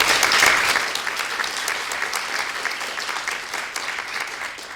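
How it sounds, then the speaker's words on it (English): Audience applause for primary school teams after a semi-final at a state debating championship: dense, sustained clapping that swells at the start and holds steady, with no voices over it. "they absolutely deserve a second round of applause for this debate"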